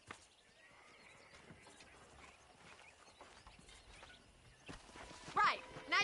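Horses in the video game Red Dead Redemption 2 give faint hoofbeats and clip-clop steps, then a loud whinny bursts out near the end, with people talking throughout.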